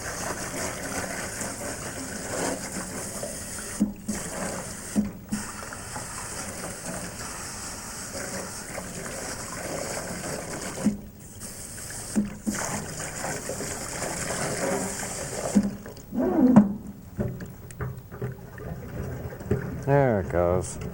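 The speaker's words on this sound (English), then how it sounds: "Rinse that out." Water splashes and trickles steadily while bonsai roots are rinsed in a tub, a continuous close watery wash with occasional louder sloshes and a voice speaking over it.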